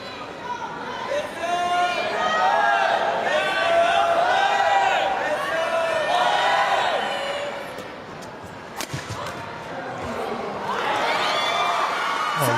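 Large crowd of French supporters at a badminton world championship in Glasgow, a steady roar of cheering and chatter filling the arena, with a commentator talking over it and a sharp racket smack near the end.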